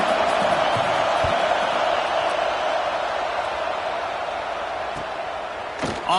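Dense, continuous stadium crowd roar during a punt return in a Tennessee versus Arkansas college football video game, loud at first and easing slightly, with scattered thuds and a sharp accent at the end.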